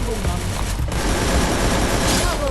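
Continuous loud automatic gunfire in a video game, dense rapid shots with booms, while players talk over it.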